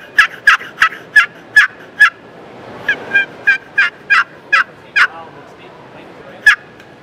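Turkey box call yelps as a chalked paddle is stroked across the lid, a run of sharp, loud, evenly spaced yelps, then a pause and a single final note, alone and close.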